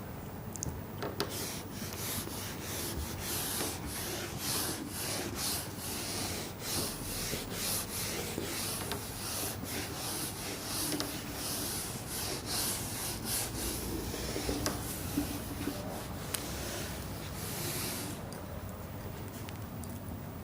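Steady rubbing and scraping as writing is wiped off a board, a continuous dry friction sound lasting many seconds with no talking.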